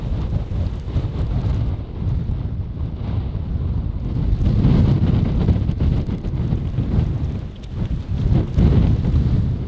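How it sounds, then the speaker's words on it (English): Powerful wind gusts buffet an exposed rocky mountainside on a backpacking trail in Glacier National Park, a loud continuous roar surging and easing over nearly ten seconds with heavy buffeting noise on the microphone. "powerful gusts of wind rushed towards us from our exposed flank"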